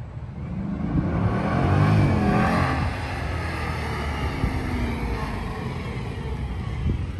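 A slow Camaro's engine drones steadily in a racing video game, a continuous loud rev that swells briefly near the start and then holds at a constant level throughout.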